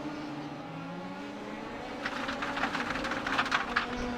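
Star Mazda race car engine in the iRacing sim, a steady droning hum that rises into louder revving with rattly bursts in the second half, heard alone without talk.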